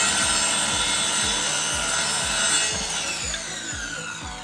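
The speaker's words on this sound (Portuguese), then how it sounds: "o Val vai usar essa serra e vai cortar os degraus bem certinhos" A power saw cuts through wooden stair steps during home staircase building, giving a loud continuous whining rasp with regular rhythmic strokes that ease off slightly toward the end; no voices.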